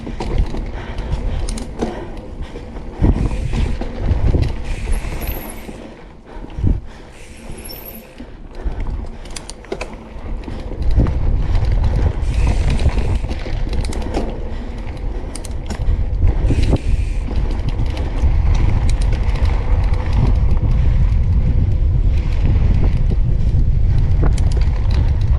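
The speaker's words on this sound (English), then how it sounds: "Super windy today." Strong wind buffets the microphone in heavy, rumbling gusts on a mountain bike trail, with occasional creaks and rattles of gear, steady and loud through most of the stretch.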